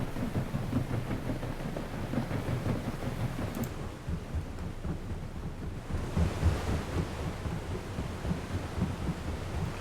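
A ship in Transport Fever 2 ploughs quickly through open sea, with a steady roar of surf and rushing water churning continuously, loud and close, with no voices over it.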